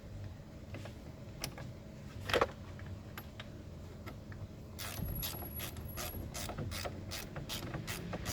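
Ratcheting clicks from a 21 mm socket tightening the front lower ball joint bolts on a 2002 Jeep Liberty, a fast run of sharp pawl ticks at close range after a few scattered clicks and clanks.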